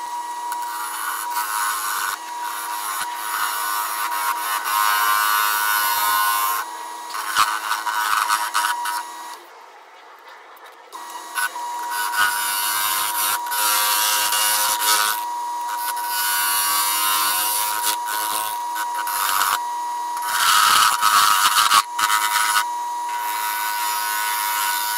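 A wooden succulent pot turning on a lathe as a bowl gouge trues up the outside, a steady buzzing, scraping whine that drops out briefly near the middle and then returns, with no voices.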